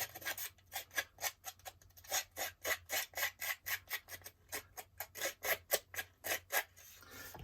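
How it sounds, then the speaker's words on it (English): Rapid, rhythmic rasping strokes of a scruffing tool distressing the torn edges of paper on an art journal page, about twenty close, even scrapes in steady succession with no talk. "Scruff the edges along there."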